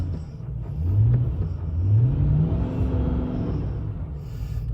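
A Chrysler 300 engine revs in two rising bursts and then holds a steady drone as its wheels spin uselessly in snow with traction control switched off. The sound is close and fairly loud, with no voices.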